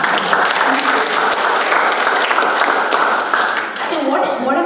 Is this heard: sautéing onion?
no